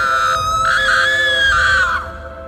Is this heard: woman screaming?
yes